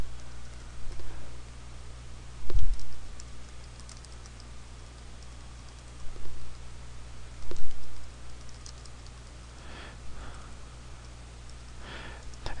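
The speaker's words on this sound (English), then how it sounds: "We'll go ahead and type in a title for my new site." Sparse typing on a computer keyboard and a few mouse clicks in a quiet room, coming in short scattered bursts with long pauses between them over a faint steady hum.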